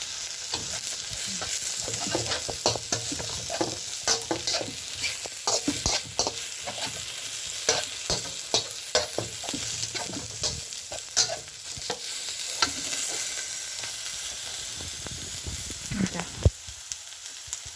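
Food stir-fried in a pan, meant for eating with hot rice porridge: constant loud sizzling with rapid, repeated spatula scrapes and clanks throughout, close up and without speech.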